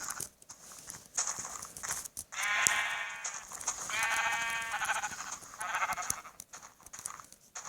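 Repeated Minecraft sheep bleats, three drawn-out calls with short gaps between them, over a hissy background. The sound is clear and fairly near.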